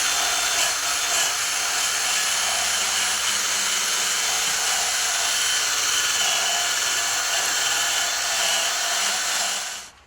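A wire brush scrubs corrosion off the bolts of a trailer jockey wheel, giving a steady, loud, unbroken scratchy rasp that continues for about ten seconds before cutting off.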